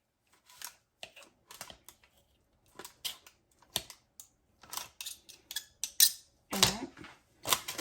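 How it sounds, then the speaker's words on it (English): A turkey burger being cut up with a knife or similar utensil at lunchtime, giving a string of short, close, crisp cutting and scraping clicks in an irregular rhythm, with no talking. "I'm gonna take my turkey burger and cut that up."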